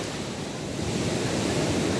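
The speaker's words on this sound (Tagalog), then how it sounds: "matindi yung ngalit ng karagatan" Rough ocean surf pounds a Zambales beach close by, a dense, continuous roar with wind buffeting the microphone and swelling slightly louder toward the end. No one speaks.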